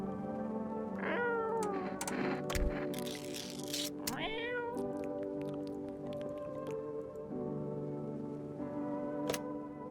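A cat meows several times in a video game about keeping visitors out of the home, with short, rising calls spread across a backdrop of soft music and small wet squishy clicks.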